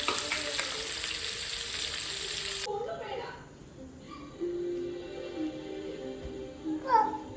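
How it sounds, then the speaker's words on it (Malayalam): Fish coated in masala frying in a pan on a home stove, with a loud, dense sizzle that drops to a softer crackle partway through, under intermittent voices. "നമുക്ക് ഫ്രൈ ചെയ്യാൻ പോകണം. ചട്ടി അടുപ്പത്ത് വെച്ചു."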